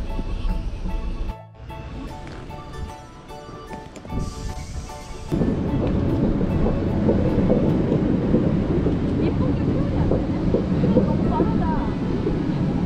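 Riding the Haeundae Beach Train in Busan, a subway-like rail car: a steady low rumble of the moving train settles in after a few seconds of quieter cabin sound, with some voices nearby.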